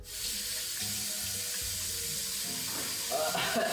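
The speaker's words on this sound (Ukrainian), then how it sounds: "Я змиваю очі очищувальним молоком, бо мені ліньки." Tap water running steadily into a sink while a face is washed clean with cleansing milk, a constant close hiss of flowing water with a faint voice murmuring underneath.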